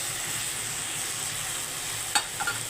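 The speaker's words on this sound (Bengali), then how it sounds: "আমাদের পাট শাক ভাজা কমপ্লিট হয়ে গেছে" Jute leaves frying in a pan, a steady hissing sizzle close by, with a sharp spatula scrape near the end followed by a couple of lighter stirring knocks.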